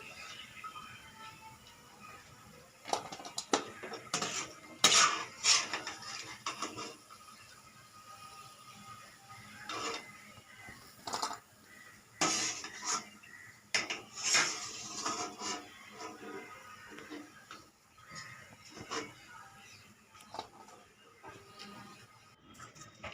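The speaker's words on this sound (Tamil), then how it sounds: "இப்போ எண்ணெயிலேருந்து நம்ம பிஸ்கெட்டை பிரித்து எடுத்துடலாம்." Fried maida biscuits are lifted out of hot frying oil with clinks and scrapes of a metal ladle against the pan, in scattered bursts, fairly close, with a faint background hiss.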